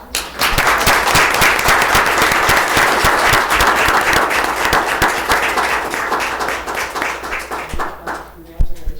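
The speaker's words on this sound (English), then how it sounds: "Everybody could give them a round of applause" Sustained applause for honored students at a township board meeting, dense steady clapping from a room of people lasting most of the time before fading out near the end.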